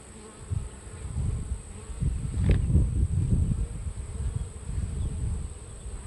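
Honey bees buzz in a dense, steady drone around an open hive during an inspection, the swarm sound close and continuous with small swells in loudness and no talking.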